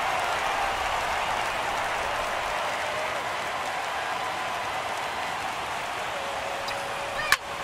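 Video-game crowd of over 39,000 at a baseball stadium in MLB The Show 17, Mets at Rangers, sending up a steady, loud roar throughout, with a sharp crack near the end.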